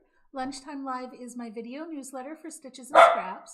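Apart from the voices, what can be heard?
dog barking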